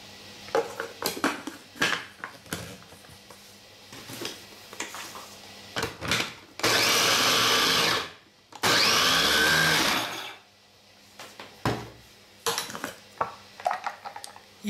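Knife chopping pepper on a board, with scattered sharp taps and clatter of kitchen utensils, broken by two sustained bursts of a louder whirring grinding noise, close and without talking.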